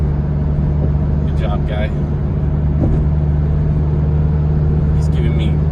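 A Mazdaspeed3 coasts off throttle at speed, a steady low engine and road drone inside the cabin with no rise in revs, while someone speaks briefly over it.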